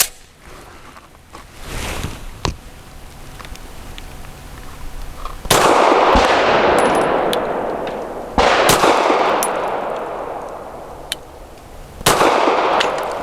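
Grand Power P1 Ultra pistol fired with Federal Syntech Action Pistol ammo, several sharp reports spaced a few seconds apart, loud and near with ringing echo after each, plus fainter distant shots from elsewhere on the range.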